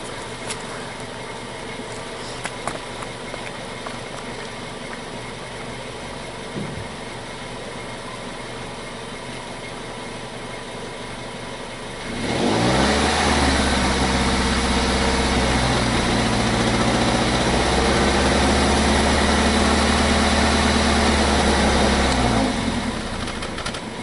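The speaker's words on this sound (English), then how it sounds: "I'm going to just set this down while I go ahead and rev it." Car engine after a SeaFoam treatment for rough idle, first idling quietly with faint clicks, then revved up to a steady loud, deep hold before easing back slightly.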